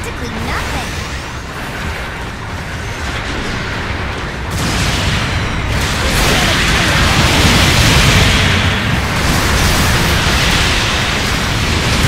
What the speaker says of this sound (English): Long-range supporting fire's coming on.